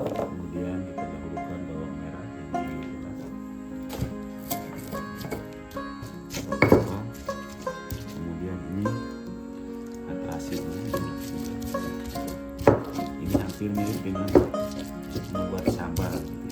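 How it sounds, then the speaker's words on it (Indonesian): Shallots being pounded in a stone mortar with a pestle (ulek) for sambal, giving a run of dull knocks and squishy grinding strokes with occasional sharper hits, close by, under a speaking voice. "Kemudian kita dahulukan bawang merah yang diulek."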